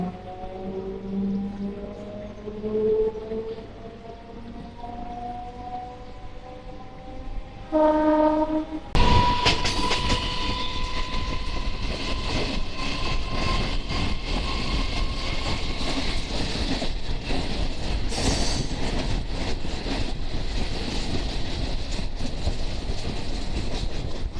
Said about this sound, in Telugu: సో మన ట్రైన్ అయితే 2 minutes డిలేతో చందానగర్ అయితే డిపార్ట్ అవుతుంది.